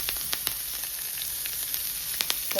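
Chillies, curry leaves and pepper powder sizzle steadily in hot oil in a pan while farali samosa filling is made, a constant bright hiss broken by scattered sharp pops and crackles.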